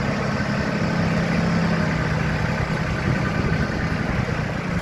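A Solis 26 four-wheel-drive mini tractor with a three-cylinder Mitsubishi diesel engine runs at a steady idle, a continuous, close, even rumble with no breaks or speech.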